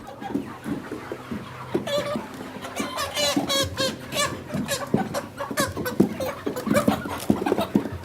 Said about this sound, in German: So ruhig wie möglich, aber auch schnell und effizient verladen Knuttis die Hühner